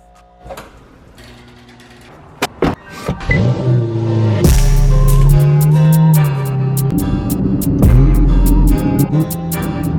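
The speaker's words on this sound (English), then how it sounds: "There's nothing better than Ferrari downshifts. They're so immediate." A Ferrari engine driving downshifts on the road, loud and close, with sharp throttle blips and rising revs layered over a steady mechanical drone and ticking clatter, no talking.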